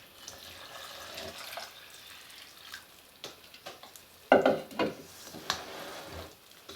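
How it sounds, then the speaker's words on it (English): Liquids are poured into bread dough in a bowl and stirred, giving soft splashes and wet scraping knocks that swell midway, fairly close and moderately quiet. "Now I'm just going to dump in the liquids and stir it up."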